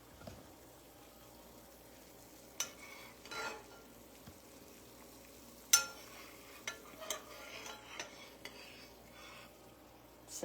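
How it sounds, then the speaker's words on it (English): Coconut cake glaze bubbles quietly in a pot on the stove, a soft steady simmer broken by intermittent scrapes and clinks of a utensil stirring against the pan. "So this is boiling now."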